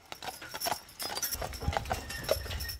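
Draft horse hooves clip-clop on the ground while pulling a horse-drawn wagon at Chautauqua Institution, a steady uneven rhythm of sharp knocks with wagon rumble underneath, close and clear.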